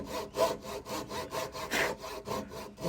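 Hand saw making short back-and-forth starting strokes at the top of a wooden joint cut, a steady rasping rhythm of about a dozen close, moderately loud strokes with no talk.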